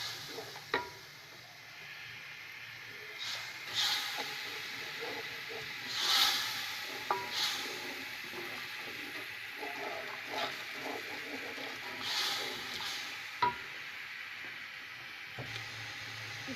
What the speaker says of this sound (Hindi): ये प्याज ब्राउन होने के बाद हमने इसमें टमाटर, सब्ज़ मिर्च और लहसुन अदरक का पेस्ट शामिल करके इसको 1-2 मिनट भूनेंगे।